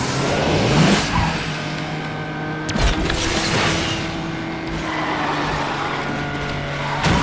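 A Nissan 370Z drifts in the Asphalt 9 racing game with a loud, sustained engine drone and tyre screech, and brief whooshing bursts layered over the steady motor tone.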